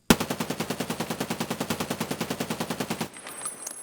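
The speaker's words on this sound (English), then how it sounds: "This is just dumping a 30 round mag through basically a stock SCAR L." A stock SCAR-L in Escape from Tarkov fires a full 30-round magazine on full auto, a steady rapid string of about thirty close, loud shots that lasts roughly three seconds and then stops, leaving a faint ringing tail.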